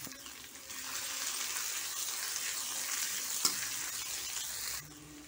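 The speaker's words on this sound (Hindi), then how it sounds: "अनियन को हम लो फ्लेम में फ्राई करेंगे ताकि अनियन अच्छी तरह से चारों तरफ से फ्राई हो जाए।" Sliced onions frying in hot oil over a low flame in a home kitchen, a steady soft sizzle that runs continuously at moderate level, with a faint clink near the middle.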